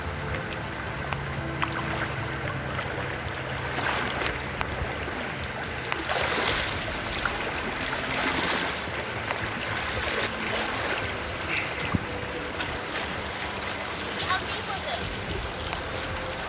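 Someone wades through a cold, shin-deep creek, with continuous rushing water and splashing close by and loud throughout, and no talking.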